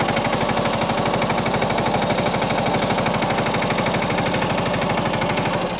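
A large tractor engine runs at a farm home, its rapid, even diesel chug loud and close. The throbbing rhythm holds unbroken with no voices over it.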